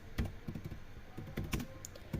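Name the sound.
typing Python code on a computer keyboard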